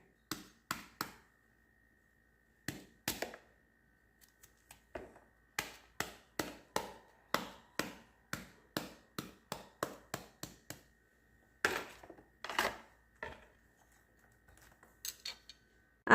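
A knife chops through jackfruit on a cutting board while making a Malayalam jackfruit curry, giving bursts of sharp, close, rhythmic taps and clacks separated by short pauses, with no talking.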